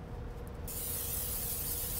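A steady hiss of aerosol cooking spray onto a pan begins partway through, continuing evenly over a low background rumble.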